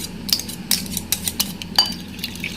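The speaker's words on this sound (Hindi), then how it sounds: "दोनों चीज़ों को मैंने अच्छी तरह से बीट कर लिया।" A whisk or spoon clinks against the inside of a bowl while milk and cream are beaten together, giving a run of light, irregular metallic taps and scrapes up close.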